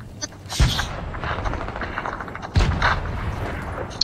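Gunfire in the video game Fortnite, two sharp shots about two seconds apart with short rumbling tails over low, steady game ambience.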